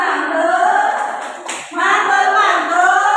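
Dense, steady clapping from a group of children in a primary school classroom game, loud and continuous with a short dip midway before resuming at full strength.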